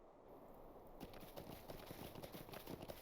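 Rapid hoofbeats of a horse in the video game Lord of the Rings Online clip-clop in a quick rhythmic gallop, steady and fairly close, over a wash of ambient noise.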